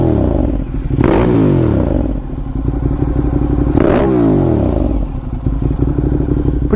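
A Ducati Monster 1200 R's engine gives a loud, close, deep rumble with two rising revs, mechanical clatter riding over the throbbing exhaust.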